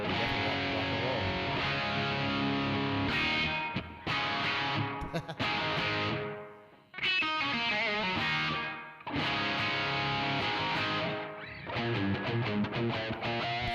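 An electric guitar plays through the drive channel of a Mojotone Studio One amp, giving loud, sustained distorted chords in long phrases broken by short pauses.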